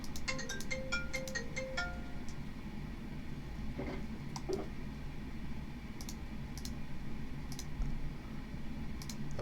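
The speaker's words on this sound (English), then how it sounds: "That wasn't your alarm, was it?" Phone alarm chimes in a quick, high melodic burst at the start, then sparse clicks and taps over faint background hum during a Minecraft live stream.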